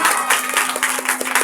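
Children's Independence Day program on 14 August, with an audience clapping loudly for a girl after her speech. The clapping is dense and energetic, a steady patter of many hands with a faint constant hum underneath.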